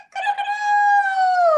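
A person imitates a rooster with one drawn-out, nasal cock-a-doodle-doo, rising briefly and then holding a long, bright, sustained tone that falls away at the end, loud and close.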